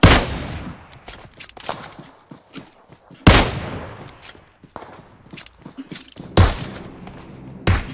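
Gunshots ring out in a PUBG Mobile zombie mode match, sharp close bursts repeated several times in an uneven rhythm, each followed by a short fading tail, with lighter clicks and thuds between them and no voices.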